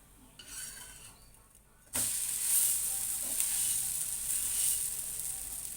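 A dosa sizzles on a hot griddle pan, its steady hiss jumping louder after a quiet start and holding close and continuous, with faint clinks of utensils.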